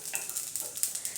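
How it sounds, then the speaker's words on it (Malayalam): Mustard seeds and fenugreek frying in hot oil for a green chilli pickle, giving a steady soft sizzle dotted with small crackling pops, close and alone. "നമ്മുടെ കടുകെല്ലാം ഒന്ന് പൊട്ടുന്നത് വരെ നമ്മളിതുപോലെ ഒന്ന് വറുക്കണം."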